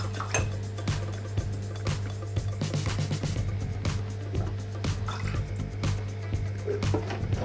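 Two tablespoons of alcohol poured into a glycerin and water solution for a glycerin flower craft: a close run of small drips, trickles and light splashes over a steady low hum, with no talk.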